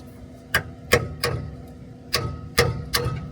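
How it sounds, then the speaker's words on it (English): Sharp metal strikes ring out in irregular pairs, about six hard hammer blows of a spanner against a stuck part, close by with short pauses between. "now, just trying to hammer it out"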